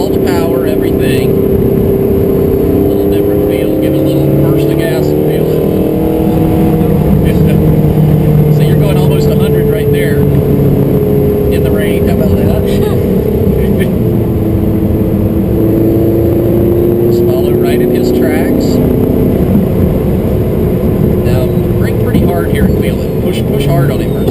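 A Can-Am Spyder three-wheeler in race mode revs with a steady droning engine note that rises and falls under a brief burst of throttle, loud and close over wind noise, while people talk over it.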